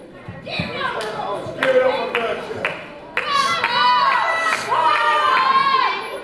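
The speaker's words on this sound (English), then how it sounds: "The crowd is still cheering Paul Malin on there." A live wrestling-event crowd cheers, shouts and claps continuously, with young voices prominent among the fans and a commentator talking over the noise.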